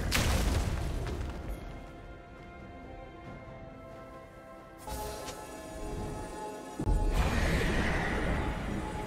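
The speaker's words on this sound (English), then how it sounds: "Red team's turret has been destroyed." Turret destruction in League of Legends, a Sion versus Fiora top-lane match: a loud booming crash lands midway, followed by another heavy burst and rumbling game sound effects over continuous in-game audio.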